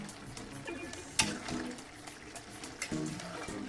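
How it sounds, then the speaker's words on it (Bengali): Prawns and bottle gourd are stirred in a pan over a raised gas flame while the liquid cooks down, giving a wet, bubbling sizzle broken by a few sharp scrapes and knocks of the spatula. "গ্যাসের ফ্লেমটা বাড়িয়ে দিয়ে আমি একটু নাড়াচাড়া করছি"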